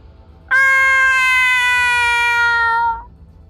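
A cat meow alert plays during a live game stream of Nebulous: Fleet Command, a single loud, sustained, tonal meow-like chime lasting about two and a half seconds, clean and alone.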